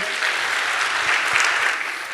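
Congregation in a church service applauding for the Lord during a sermon, a dense, steady wash of clapping from many hands at close range, sustained for the whole stretch with no voices on top.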